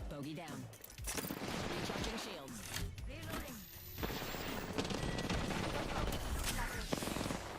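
Repeated gunfire in a shooter video game crackles in rapid volleys across the whole stretch, with voices talking over the shooting.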